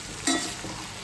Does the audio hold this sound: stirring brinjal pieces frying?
yes